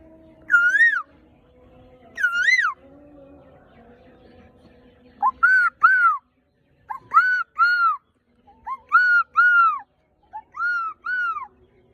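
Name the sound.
person imitating bird calls by whistling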